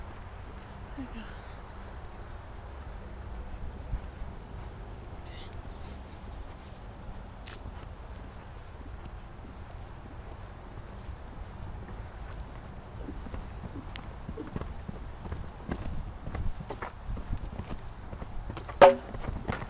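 A horse's hoofbeats thud rhythmically on soft ground in a jumping exercise, growing quicker and louder toward the end, with faint distant sounds in the background.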